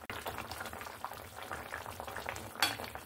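Black pomfret fish curry gravy bubbling in a pan, a soft, steady low simmer with one brief clink near the end.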